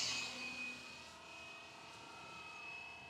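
A steady whining rotor and motor drone from a small Fly Wing EC135 RC model helicopter overhead, moderately loud and continuous, with a high-pitched tone running throughout.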